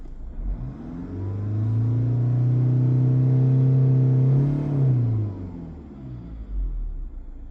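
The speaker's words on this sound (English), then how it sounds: "So if we give it a rev up and down" A Mazda CX-5 with the 2.2 Skyactiv diesel engine revs up and holds high for several seconds before dropping back to idle, a loud, close, steady drone with no talking.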